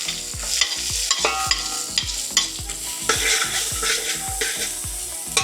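Onions sizzling in a pan for fish curry while a spoon stirs them, rhythmic scraping and clinking strokes about twice a second over a constant hiss, close and clear, with no voices.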